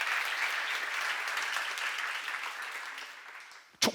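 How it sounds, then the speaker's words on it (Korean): A church congregation at a seminar applauds together, a dense burst of clapping that holds steady for several seconds, then tapers off and ends with a brief sharp knock. "믿는 사람만 박수쳐봐."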